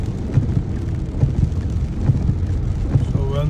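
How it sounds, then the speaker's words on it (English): Heavy rain falls steadily on Hwy 285 South in Atlanta, Georgia, with stuck traffic; a dense, continuous wash of rain noise and low vehicle rumble throughout, with faint knocks and passing sounds. "raining in Atlanta, Georgia,"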